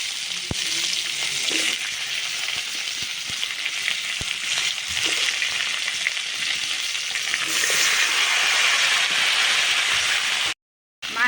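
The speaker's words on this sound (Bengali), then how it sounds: "আর একটু ভাজা ভাজা করে নিই" Bitter gourd, beans, potato and cauliflower fry in oil in a wok over a wood fire, sizzling loudly and continuously with occasional stirring clatters close by.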